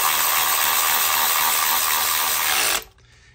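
An electric ratchet tightens a bolt on a 2015 Chevy Sonic engine, a loud, close, continuous whirring buzz lasting nearly three seconds before cutting off abruptly into quiet.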